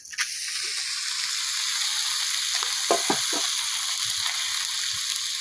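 Bata fish sliding into hot oil in a pan: a sudden splash of sizzling that settles into a loud, steady frying hiss with a few sharp crackles and spatula taps.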